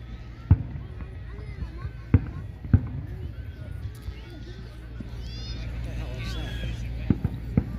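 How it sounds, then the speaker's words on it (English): Fourth of July fireworks pop in several sharp, separate bangs heard from a moving car, spaced irregularly, over low road rumble with background voices. "Whenever the 4th of July happens, fireworks are everywhere."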